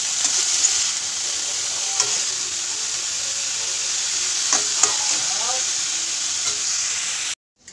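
Hand-mixed dal set on to cook beside spiced cabbage in a home kitchen, a steady sizzle with occasional stirring clinks and spatters, ending in a sudden cut to near silence.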